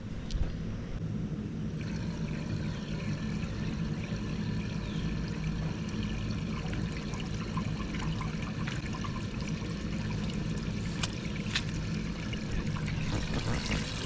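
Water from a garden hose running through the engine of a 1930 Ford Model A makes a steady, continuous rushing and trickling wash that stays even and fairly close throughout, with no voices.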